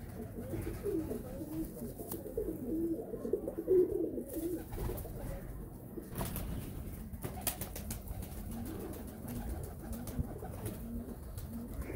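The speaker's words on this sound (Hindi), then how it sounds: "ये गोल्डन कबूतर है माशाल्लाह से।" Soft, rolling coos of golden pigeons repeat through the stretch, fairly close, over a low background rumble with no clear speech.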